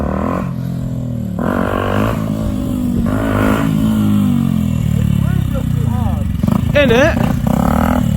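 Yamaha WR125 motorcycle engine revving in surges during a bounce-up wheelie attempt, loud and close with rising and falling pitch, while people talk over it.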